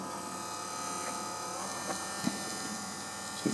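The motor driving the lead screw of a small 920 lathe runs through a speed controller with a steady, close electric whine and buzz, broken by a few faint clicks and knocks.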